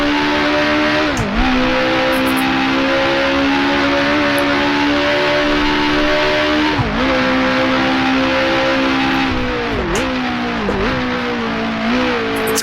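A 1966 Grand Prix race car engine in Grand Prix Legends screams loudly and steadily at high revs, with several sharp dips and rises as the driver shifts gears, heard up close with no talking over it.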